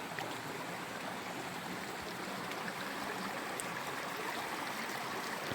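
A mountain creek flows on a hot July day, its soft, continuous babble and trickle steady and fairly faint, with no talking.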